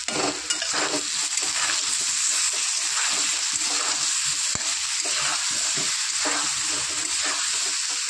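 Potato pieces sizzle steadily in hot oil in a pan with spices, a continuous close crackling fry broken by stirring scrapes and a sharp clink of the utensil near the middle.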